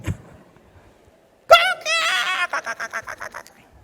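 A rooster crows once, loud and close, in a rising call that breaks into a stuttering series of shorter pulses, after a moment of near silence.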